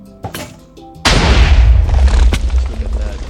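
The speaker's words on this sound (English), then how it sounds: "what's an orbital strike cannon, it's a literal nuke where you can summon anywhere you're looking" An orbital strike cannon nuke detonating in Minecraft: a few small clicks and pops, then a sudden huge booming blast that rolls on as a loud, sustained rumble with a sharp crack partway through.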